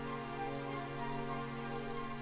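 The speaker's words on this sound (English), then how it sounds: "It would have to go and start raining, wouldn't it?" Rain falls in the video game Dragon Quest XI as a soft, even hiss that holds steady, with faint sustained tones mixed underneath.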